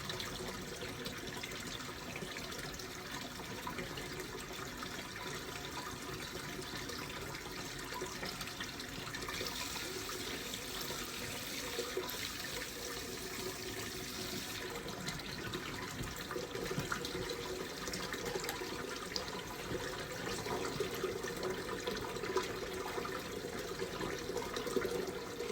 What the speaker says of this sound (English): You can see there's still a few bits of air popping out. I'm just going to let that run for a bit.